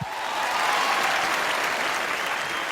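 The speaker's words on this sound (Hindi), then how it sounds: "जोरदार तालियां पाजी के लिए होनी चाहिए" A studio audience at a comedy show breaks into dense, steady applause, a continuous clatter of many hands heard close and loud for a few seconds with no talking.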